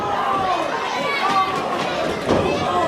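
A hot wrestling crowd at an ECPW show roars and chatters, a dense wash of noise with swells, while a commentator talks over it.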